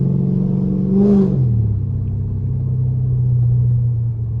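A Dodge SRT car revving briefly, then settling into a steady low engine rumble as it slides through a neighborhood street, close and loud, with no talking.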